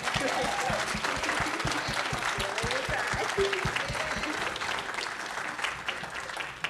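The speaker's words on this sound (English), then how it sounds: "I want you all to clap your hands for her." An audience at the Spokane Black Voices 2022 event claps steadily, a loud, dense wash of applause that holds at full strength for several seconds.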